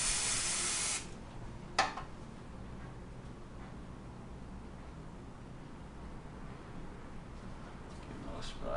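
A loud burst of aerosol smoke detector test spray hisses for about a second, then stops; a short click follows and faint room noise continues.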